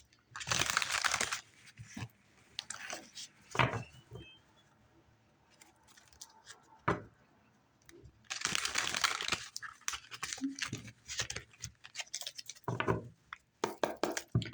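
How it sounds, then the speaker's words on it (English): Shadowscapes tarot cards are shuffled by hand in several bursts of crisp riffling and slapping, with brief taps and quiet pauses between, close and fairly loud with no talking. "One more shuffle."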